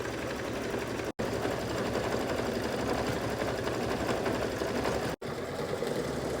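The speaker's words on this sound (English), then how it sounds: "step 5 is stitching the decorative stitch right directly onto the peppermint" Embroidery machine stitching a decorative stitch onto a peppermint ornament in the hoop, a loud, fast, steady needle chatter with two very brief stops.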